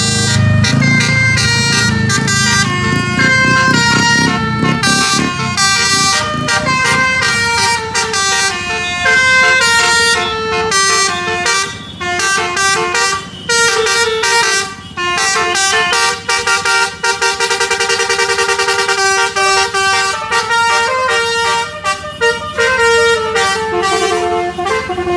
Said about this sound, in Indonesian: kali ini ada bus Tunggal Jaya Kids Panda